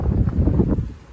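Wind gusting across a Blue Ridge mountain ridge on the Appalachian Trail, a loud, steady low rumble buffeting the microphone for about a second, with no voices.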